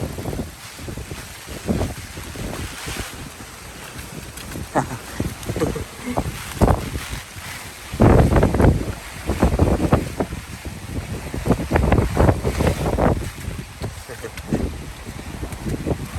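Strong wind blusters in rain at Pagudpud, with gusts buffeting the microphone in uneven loud surges and a speaker talking in between.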